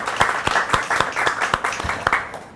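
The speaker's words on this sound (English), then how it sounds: "Can we just give our Urban Teachers family a big round of applause for being here?" Steady clapping from a small crowd, loud and close, with a quick rhythmic patter that keeps going without pause.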